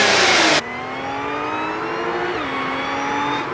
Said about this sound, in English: this is the 3-liter dual overhead cam V6 equipped on top with a root-style supercharger to cram more air into the engine